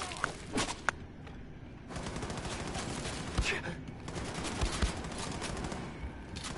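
Gunfire in a World War II video game, a dense stream of shots with several sharp cracks standing out, running steadily and fairly loud against a busy battle din.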